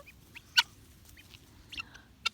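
Sharp, high-pitched guinea fowl alarm calls burst out a few times, irregular and fairly faint over a quiet background.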